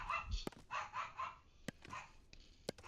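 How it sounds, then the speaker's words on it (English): Several dogs bark in short, separate bursts at a moderate distance, with a few sharp yips between the louder barks and no talking over them. "I don't know if y'all can hear the dogs barking or not."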